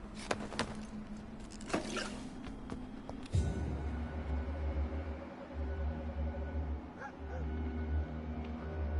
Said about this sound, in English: I think the dog barking is just ambient sound.